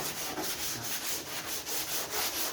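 A surface is sanded by hand with steady back-and-forth rubbing strokes, a rhythmic hissing scrape repeating roughly every quarter second, close and continuous.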